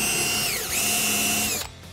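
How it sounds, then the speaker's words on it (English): A power drill fitted with a Forstner bit bores into wood while building a coffee table, giving a loud, steady high whine that dips briefly in pitch under load, holds, then cuts off abruptly near the end. "First, we start with the Forstner."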